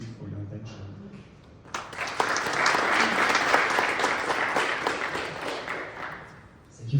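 Audience applause after a startup pitch at a Forest Admin event, loud sustained clapping from a crowd for about four seconds that tapers off, with brief talk before it starts.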